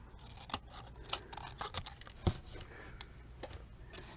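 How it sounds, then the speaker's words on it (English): Paper snips cut through card stock in a quiet indoor crafting setting, making sparse, faint, crisp snipping clicks at an uneven pace. "let me get my paper snips here"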